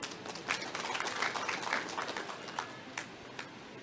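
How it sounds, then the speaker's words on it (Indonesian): Audience applause at a national agricultural gathering for the governor: a steady wash of clapping from a large crowd at moderate distance, continuing for several seconds and tapering off. "tepuk tangan untuk Pak Gubernur"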